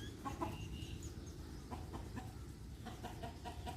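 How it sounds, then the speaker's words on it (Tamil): Soft, faint clucking and low calls from a rooster calling a hen come amid quiet home-garden background noise, with a few short sharp notes. "இது நம்ம கோழியை பக்கத்து வீட்டு சேவல் கொஞ்சம் ரெடி பண்ண கூப்பிடுது."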